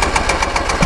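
A Bajaj Pulsar NS-200 motorcycle engine runs hot after an oil problem. A loud, close, rapid and steady thumping idle plays alone, without talk.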